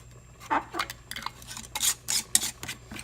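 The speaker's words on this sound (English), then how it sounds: "now I'm gonna put the top on, and this is how you screw it on" A lid scrapes and clinks around the rim of a glass preserving jar of tomatoes in short twisting bursts, several quick gritty turns, close and fairly quiet.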